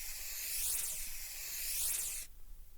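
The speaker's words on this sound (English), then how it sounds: "So give me the hairspray." An aerosol can of hairspray sprays a steady, loud, hissing stream onto hair for about two seconds before cutting off abruptly, with nobody talking.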